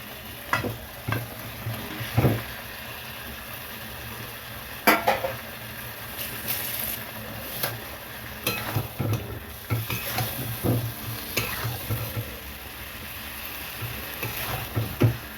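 Duck eggs, potatoes and cauliflower frying in oil in a pan, a steady sizzle broken by repeated stirring scrapes and metal clinks of a spatula against the pan.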